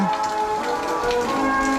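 Steady rain pattering on a surface, a continuous dense hiss with no voices, fairly close and even throughout.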